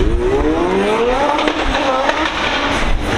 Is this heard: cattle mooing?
no